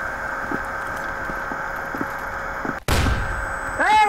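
A flashbang grenade going off in the video game Counter Blox: a sudden broadband blast that cuts the background, followed by a high ringing whine with wavering tones, over a steady game ambience.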